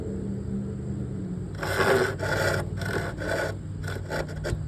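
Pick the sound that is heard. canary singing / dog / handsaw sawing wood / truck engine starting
handsaw sawing wood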